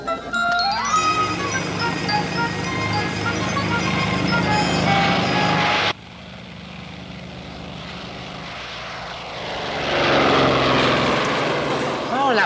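Propeller aircraft engine droning steadily and loudly, with the tone shifting partway through as the plane passes, under faint background noise.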